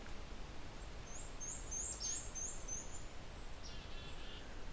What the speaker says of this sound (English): There's a black-capped chickadee behind me.